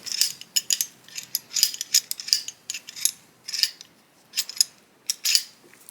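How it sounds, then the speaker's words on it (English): The oiled bolt of an AK-47 rifle is worked back and forth repeatedly, giving a series of sharp metallic clicks and sliding clacks in an irregular rhythm, close and fairly faint, with no talking. "work that bolt back and forth a few times"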